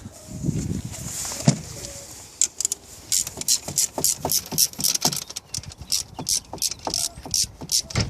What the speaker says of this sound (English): let's put this 13mm bolt back in its place